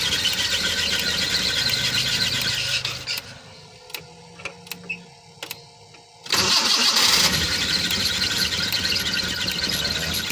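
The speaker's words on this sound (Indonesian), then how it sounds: "Baik, saya akan starter ya teman-teman." A car engine at a roadside: steady idling, then the starter cranks in several short strained bursts before the engine catches and roars loudly back into a running idle. The sound is close with no talking.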